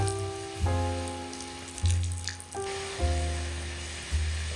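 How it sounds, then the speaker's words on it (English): A hot pan being deglazed with dry white wine sizzles steadily while periodic low thuds and bright tonal hits recur every second or so over the frying hiss. "then you're going to deglaze the pan with some of your white wine."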